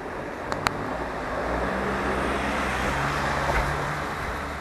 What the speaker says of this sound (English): White van man driving in